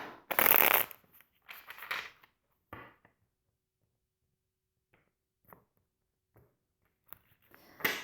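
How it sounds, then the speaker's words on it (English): Tarot cards being shuffled in close, dry riffling bursts, loudest at the start and again near the end, separated by quieter gaps with a few soft isolated card taps. "I'm going to pull a couple of cards from tarot as well."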